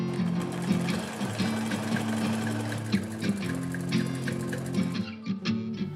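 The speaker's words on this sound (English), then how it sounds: "we finally managed to get around to the sewing of the uniforms" A sewing machine stitches school uniforms for girls in Ghana, its steady rapid needle chatter running continuously and fairly close before stopping abruptly near the end.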